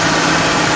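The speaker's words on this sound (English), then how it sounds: "I'm just warming up the engine to" The engine of a 1995 Ford F-250 4x4 idles while it warms up after a timing cover gasket repair. It is a loud, steady, close rumble with no talking.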